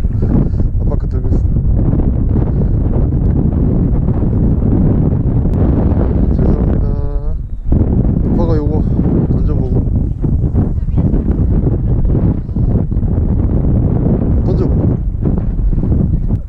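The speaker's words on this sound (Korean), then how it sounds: "바람 불면 바람이 이렇게 불잖아" Strong wind buffets the microphone outdoors at Baeksajang harbour during webfoot octopus fishing, a steady loud rumble throughout with people talking over it.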